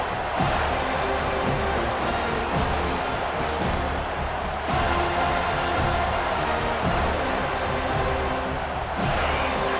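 A home crowd in EA Sports College Football 25 roars and cheers loudly and continuously, a dense stadium wash with swelling surges and thumping beats throughout.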